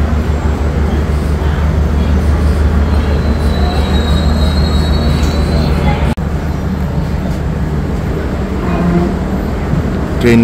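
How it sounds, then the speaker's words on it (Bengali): The 13150 Kanchankanya Express pulling out of Siliguri Junction, loud continuous rumble with high wheel squeal rising and fading, heard from inside the train. "ট্রেন কিন্তু ছাড়লো আমাদের"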